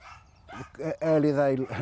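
A small dog at a toy dog show gives a short run of yappy, vocal barks and whiny, talkative yips, close and fairly loud, with a person's voice audible just before.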